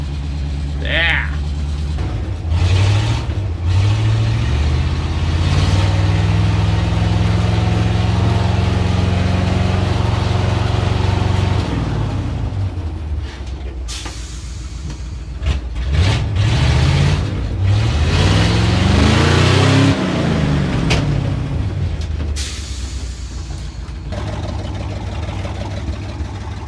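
A 1962 Ford C750 cabover truck engine runs loudly and steadily, then is revved up and down in several rising and falling swells, with brief talk over it.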